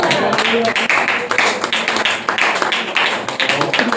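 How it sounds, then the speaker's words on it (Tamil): A church congregation claps hands together in a steady, rapid rhythm, loud and continuous, with voices mixed underneath. "கரங்களை தட்டுவோமே."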